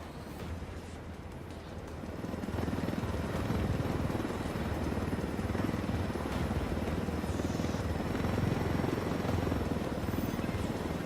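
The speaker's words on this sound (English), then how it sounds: "I told Griffin I could figure out how to fly this thing. Qualify for planes. But not choppers." Military helicopter in the video game Ghost Recon Wildlands, its rotor thumping steadily as a broad, loud roar that swells after the first two seconds and holds on without talk.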